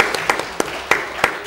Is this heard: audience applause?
yes